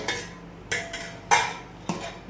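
Spice powder being stirred in a pan for a soya fry: four distinct scraping strokes of a utensil across the metal pan, close and fairly loud, with brief pauses between them.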